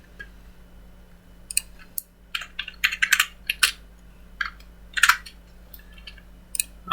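Keys clatter on a computer keyboard in irregular bursts of quick taps, fairly close, with brief pauses between strokes over a low steady hum.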